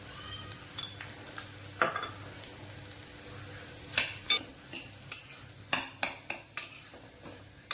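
Spoon stirring a peanut-powder and salt mixture in a pan, with sharp scraping clinks arriving in an uneven rhythm that grows busier toward the end, close and fairly quiet.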